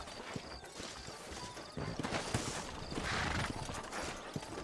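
Steady clip-clopping horse hooves with scattered clatter and ambient noise in the video game Red Dead Redemption, fairly busy and continuous, no voices.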